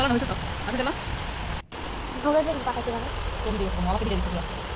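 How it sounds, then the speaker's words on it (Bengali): Morning rain falling outdoors around half past seven makes a steady soft hiss in the background while people talk over it throughout. "তাই বসে বসে আমি এখানে বৃষ্টি দেখছি"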